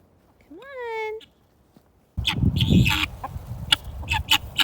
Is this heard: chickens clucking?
yes